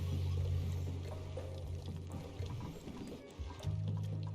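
Salt water pumped into a tank in the video game Oxygen Not Included, a pouring, gurgling liquid effect over low droning game tones, rising and dipping throughout.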